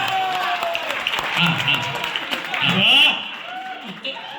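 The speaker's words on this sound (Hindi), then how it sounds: "अगर समझ गए हो तो एक बार ताली बजाइए" At a Hindi poetry gathering (kavi sammelan), the audience claps after a joke. The applause is moderate and mixed with voices and crowd noise, and it fades toward the end.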